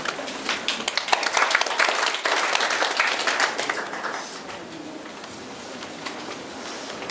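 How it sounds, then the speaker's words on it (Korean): Applause from an audience at an outdoor agricultural training session on eco-friendly garlic cultivation, welcoming a speaker. Dense clapping builds quickly, holds strong for several seconds, then thins into a lighter, steadier patter. "박수 부탁드릴게요."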